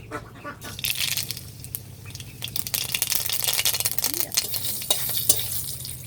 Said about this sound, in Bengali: তেল গরম হয়ে গেছে একটু শুকনো লঙ্কা আর একটু গোটা সর্ষে ফোড়ন দিয়ে